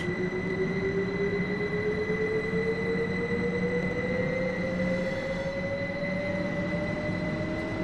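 A GWR train running in Train Sim World 2 on Xbox Series S, with a steady loud rumble of wheels on rails and sustained tonal whines, one slowly rising in pitch, continuing throughout with no voices.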